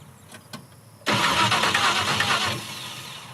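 A Chevrolet Blazer engine cranks with a short burst of loud, close starter churning lasting about a second and a half, then drops to a lower, quieter running tone, with no talking.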